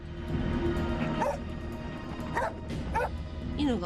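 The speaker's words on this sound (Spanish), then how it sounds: "los ladridos de la perra de la familia" A female dog gives a few separate whimpering yips and barks, spaced apart, over a steady low background hum, shortly before the Kobe earthquake.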